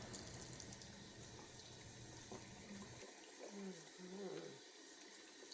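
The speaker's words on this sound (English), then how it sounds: "I am using really nice warm water here." Warm water runs steadily from a tap in a continuous hiss, briefly quieter partway through, with faint splashing and handling sounds close by.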